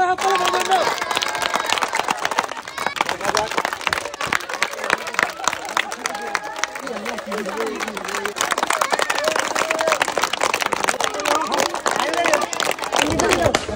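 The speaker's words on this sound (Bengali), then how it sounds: "সবাই জোরে তালি হবে" An audience claps at a balloon-popping game during a district contest. Dense, continuous clapping runs throughout under a busy crowd and a loud voice talking over it.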